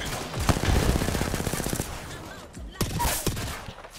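Rapid automatic gunfire in the battle-royale shooter Apex Legends, a sustained burst of close shots followed by sharper separate bangs, with a player's voice talking over the fight.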